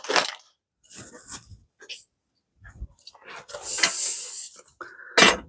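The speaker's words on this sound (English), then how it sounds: "we've got the brake cleaner right here" Brake cleaner hisses from an aerosol can in short bursts during maintenance on a 2004 Vespa ET2 scooter, loud and close, with quiet gaps and faint handling noises between sprays.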